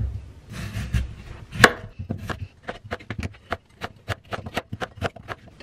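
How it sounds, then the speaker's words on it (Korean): A knife chopping carrot and other vegetables on a cutting board in a home kitchen, a rapid series of sharp close knocks, first clustered then spaced into a steady rhythm. "그냥 큼직큼직하게 썰었어요"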